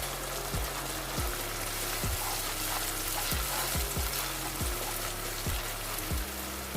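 Liver frying with garlic ginger paste in a pan sizzles steadily, while a spoon scrapes and stirs through it in repeated strokes roughly every half second.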